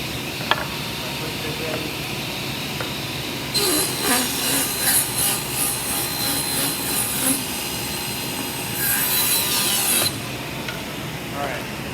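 Table saw making a 3-inch rip cut in wood, its blade whining loudly through the board for several seconds, pausing briefly, then cutting again over a steady motor hum.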